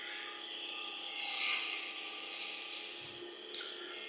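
A small spindle gouge cutting wood on a lathe, a continuous soft hissing scrape with slight swells as the tool moves, over a faint steady hum of the machine, quiet and close.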